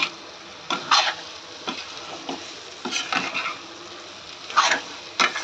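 Egg bhurji with onion and tomato fries in a pan for a four-person batch, with a steady low sizzle broken by several bursts of spatula stirring and scraping, close and moderately loud, no talking.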